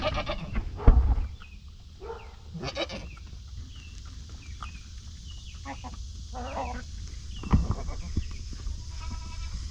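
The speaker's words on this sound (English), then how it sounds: "Get the little goat babies and go feed our goat babies." Goats bleat several times at a moderate distance, with loud calls near the start and again later over a quiet outdoor background.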